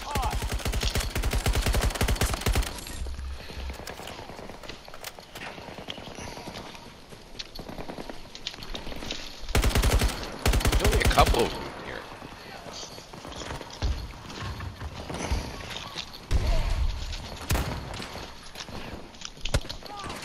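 Gunfire rattles through a Battlefield 2042 battle on the Haven map, with loud bursts and scattered shots layered over dense game noise and frequent talk.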